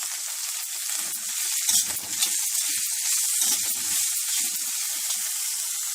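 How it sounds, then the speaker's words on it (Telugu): Steady frying sizzle as finely chopped ajwain leaves are stirred into dal in a hot pan, with soft scraping stir sounds surfacing now and then beneath the constant hiss. "నెక్స్ట్ వీటిలో మనం సన్నగా కట్ చేసుకున్న వాము ఆకును కూడా వేసుకుని ఒకసారి మళ్ళీ బాగా కలుపుకోవాలి."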